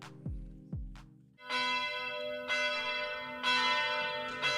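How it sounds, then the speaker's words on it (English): Church bells ring out, a few low struck tones first, then a fuller peal of bells sounding together, clear and resonant. "The bells!"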